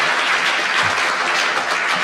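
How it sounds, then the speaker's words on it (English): Studio audience applause at a 1972 taping of the BBC radio panel game Just a Minute: a dense, steady wash of clapping that fills the whole stretch with no voices breaking through. "That line was drowned in the applause"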